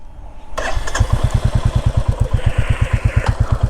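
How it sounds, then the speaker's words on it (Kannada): A Royal Enfield Classic 350 motorcycle cranks and fires up, then settles into a loud, close, steady thumping single-cylinder idle with evenly spaced beats. "ಗಾಡಿ ಸ್ಟಾರ್ಟಿಂಗ್ ಕೂಡ ಮಸ್ತಾಗೇ ಇದೆ, ಒಳ್ಳೆ ಫೀಲ್ ಕೊಡುತ್ತೆ ಗುರು ಗಾಡಿ ಸ್ಟಾರ್ಟ್ ಮಾಡ್ಬೇಕಾರೆ"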